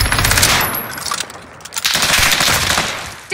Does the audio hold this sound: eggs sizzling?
no